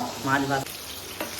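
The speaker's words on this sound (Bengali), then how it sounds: "আমার বউ মাছ ভাজতেছে।" Fish frying in a pan at home, a short hiss and crackle of hot oil with brief bursts of sizzling, heard close and fairly quiet.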